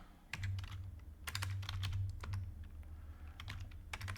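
Fingers type a command on a computer keyboard, a close run of quick irregular key clicks in short bursts over a low steady hum, with no talking.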